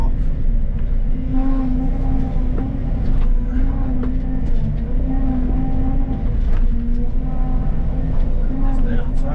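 A tracked excavator spins around on dirt at a pool demolition site, its diesel engine a loud continuous rumble with clanking track links and steady mechanical whine close by.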